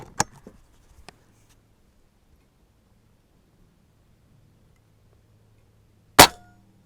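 Airgun shots at a 4-inch quadrant target 100 yards away: a sharp crack, a few faint ticks, a long quiet stretch, then a second loud crack at an outdoor range.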